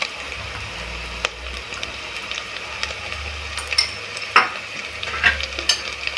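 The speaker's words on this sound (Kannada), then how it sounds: "ಹಸಿ ವಾಸನೆ ಹೋಗೋವರೆಗೂ ಒಂದು ಸ್ವಲ್ಪ ಬಾಡಿಸ್ಕೊಳ್ಳಿ" Spices sautéing in a pan for a quick biryani give off a steady, close sizzle, with occasional sharp scrapes and clicks over a low, constant hum.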